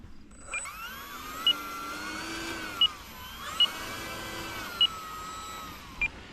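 The electric motor of an E-Flite Air Tractor RC plane whines steadily throughout, its pitch sweeping up and down, with short sharp ticks recurring every second or so.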